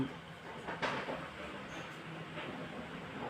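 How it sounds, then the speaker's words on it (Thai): A slow local passenger train rolls past outdoors with a steady, broad rumble. It is moderately loud and continuous, and a brief sharper clatter comes near the start. "ไม่ใช่รถไฟแบบด่วน เป็นรถไฟหวานเย็นนะ"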